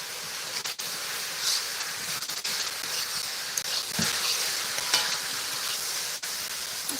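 Shredded cabbage fries in a pan with a steady, broad sizzle, while a spatula scrapes and stirs it at irregular moments. The sound is close and continuous, with no one talking.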